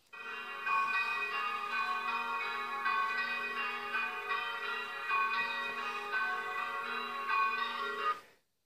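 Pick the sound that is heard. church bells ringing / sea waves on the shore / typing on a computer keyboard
church bells ringing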